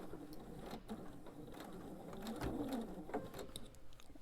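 A sewing machine stitches slowly along a quilt seam, its quiet, steady mechanical whir broken by light rhythmic ticks and clicks, heard alone without talk.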